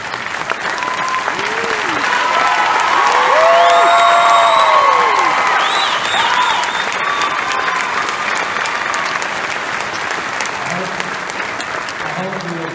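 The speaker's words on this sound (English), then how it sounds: "Let's give Logan another round of applause." A large graduation ceremony audience at Auburn University Montgomery applauds steadily, a dense, loud wash of clapping that swells toward the middle and then eases slightly, threaded with scattered cheers, whoops and crowd voices throughout.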